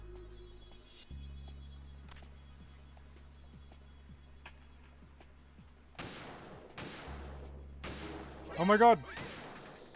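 Gunfire in Metal Gear Solid 2 cracks out in several sharp, loud bursts over a steady low game hum, with a voice exclaiming in alarm partway through.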